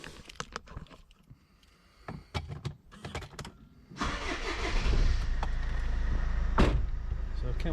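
Car keys are dropped out of a car's dashboard audio unit with a run of sharp metallic clicks and rattles, followed by a loud, steady rumble that continues to the end.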